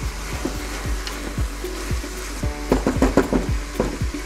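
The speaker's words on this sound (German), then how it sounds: "dann jetzt hier die Möhren und Sellerie noch mal so ein paar Minuten, 3-4 Minuten mit andünsten lassen" Carrots and celery sautéing in a pot for a lentil soup inside a cook4me multicooker, with a steady low sizzle broken by repeated knocks and scraping of a stirring utensil, busier toward the end.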